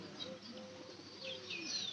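Pigeon in a loft giving a soft calling coo, faint and intermittent against a bed of chirps and ambient bird noise, no voices.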